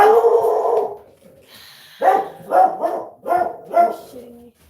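A dog howls briefly, then barks several times in a quick, uneven series, fairly close and clear.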